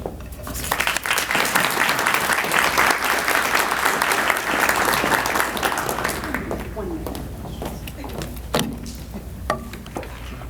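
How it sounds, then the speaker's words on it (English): An audience at a county state-of-the-community event breaks into full, dense applause that swells, then thins into scattered claps and room noise before fading out. "Can we give them one more round of applause?"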